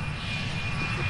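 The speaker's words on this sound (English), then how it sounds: "the F-100 Super Sabre rolls out" A North American F-100 Super Sabre jet at the Terre Haute airshow taxis with a steady, loud engine roar and a high whine running through it, an unbroken close drone.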